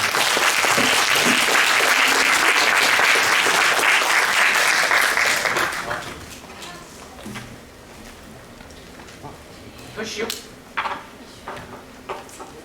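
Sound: audience applause welcoming a pansori performer

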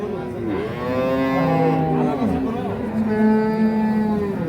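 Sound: Holstein Friesian dairy cow mooing

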